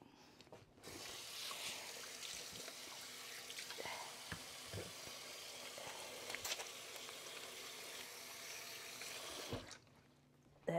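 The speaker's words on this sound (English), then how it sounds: "I'm going to wash my hands now." Tap water runs steadily into a kitchen sink while hands are washed under it, a continuous close hiss with small splashes, stopping abruptly near the end.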